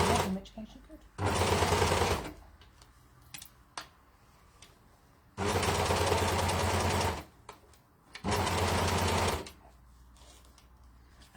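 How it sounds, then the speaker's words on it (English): Sewing machine stitching into a shoulder pad, running in three loud, steady bursts of rapid mechanical whirring separated by quieter gaps with light clicks and handling sounds. "it's just stitching into the shoulder pad"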